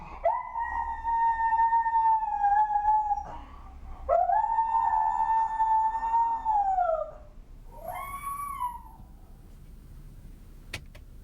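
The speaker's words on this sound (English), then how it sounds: "I think it would be categorized as an exceptional type of howling" A dog named Oscar howls in long, mournful, sustained tones: two drawn-out howls close to the listener, then a shorter, fainter howl that trails off, with no talking.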